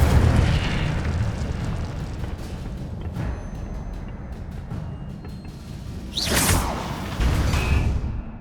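Incendio fire spell cast in Hogwarts Legacy, a burst of whooshing flame with a boom-like swell, following quieter rumbling ambience and faint clicks, loud and close, then a second softer rush trailing off.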